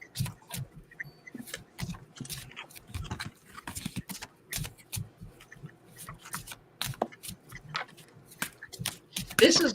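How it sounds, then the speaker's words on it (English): A deck of playing cards being shuffled indoors, with a run of quick soft riffling bursts and rustles repeating through the scene, close and moderately loud, while people sit nearby without clear talk. "I shuffled the deck"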